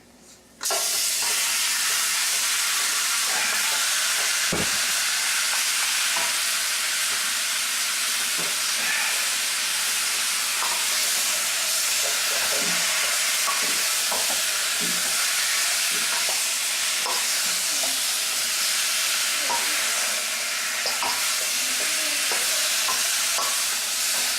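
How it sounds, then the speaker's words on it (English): Lamb chops sizzle and splutter in hot oil in a pan, a loud continuous hiss with scattered pops and occasional utensil knocks, close up throughout. "as you hear the spluttering noise, you can add the meat to it, or you can add the chops to it"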